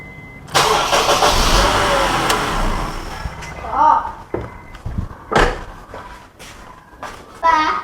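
A Honda Accord engine cranks and fires during a power steering fluid bleed, a loud rumbling start followed by idling, with people talking nearby, including a voice.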